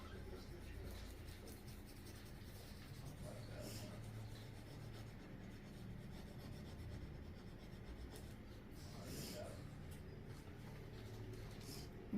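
Soft, scratchy rubbing as a hand presses hard across a Dollar Tree craft surface to transfer a stamp image, a faint, continuous back-and-forth friction with occasional sharper strokes.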